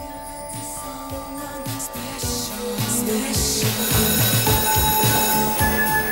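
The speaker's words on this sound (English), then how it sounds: "Go on, phone Alice's mum" A telephone rings with a repeated electronic trill during a call, loud and close. The rings sound in steady bursts over a busy background.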